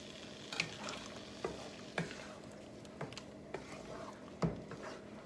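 Chicken curry masala frying with tomato paste over high heat, a low sizzle with regular spoon knocks and scrapes against the pot, close and fairly quiet.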